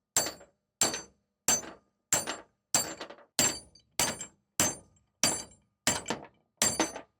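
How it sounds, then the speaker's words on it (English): A hammer strikes a seized old heavy-equipment load binder eleven times in a steady rhythm, each blow a sharp, ringing metallic clank that decays quickly, close and loud with silence between hits. "So I'm gonna just go ahead and hammer it."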